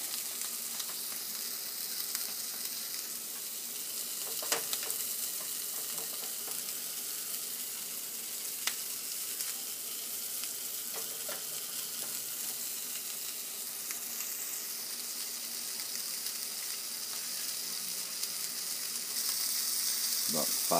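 Food simmers in a china pot over an alcohol spirit burner, giving a faint, steady sizzling hiss with occasional small pops and clicks throughout.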